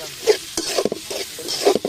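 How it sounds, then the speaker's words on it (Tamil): Soft sizzling of onions sautéing in a pan with repeated scraping stirs, a steady frying hiss under the spatula strokes. "வெங்காயத்தை நம்ம வந்து பொன்னிறம் வர வர நல்லா வதக்கிக்கலாம்"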